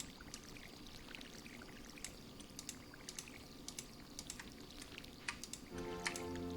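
Stardew Valley watering can pouring over crops, a quiet run of repeated splashy trickles and drips, ending in a short chime-like tone near the end, with no one speaking.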